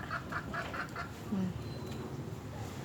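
Several short quacking calls repeat at the start over a steady outdoor background, then fade into ambient noise, like ducks and chickens at a distance.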